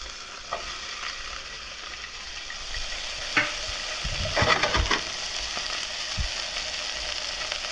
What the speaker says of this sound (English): And then we're just gonna saute these